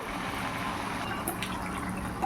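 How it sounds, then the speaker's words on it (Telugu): Water pours steadily into a pot of rice for prawn biryani, a close, continuous splashing rush that holds at an even level throughout. "ఇప్పుడు నీళ్ళు వేద్దాం"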